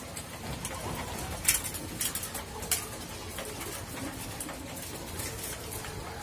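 Racing pigeons coo softly and repeatedly over a steady background, with a few brief sharp chirps and faint rustling.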